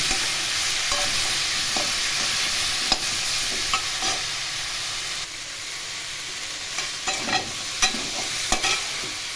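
Mixed vegetables stir-fried in a pan over a medium flame for a Bengali panchmishali sabji, with a loud continuous hissing sizzle and scattered spatula scrapes and taps, growing more frequent toward the end.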